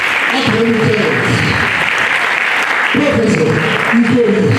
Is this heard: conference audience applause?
yes